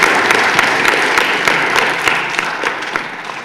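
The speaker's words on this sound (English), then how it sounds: "But let's give Ottaway a round of applause." Audience of students and families clapping at a school spelling bee, a full steady round of applause in a room, fairly loud and continuous, gradually easing toward the end.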